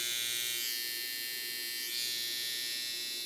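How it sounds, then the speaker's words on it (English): A barber's hair trimmer rated at 7,200 RPM runs with a steady, bright high-pitched buzz, close and continuous throughout. "it's not too loud for a trimmer at all"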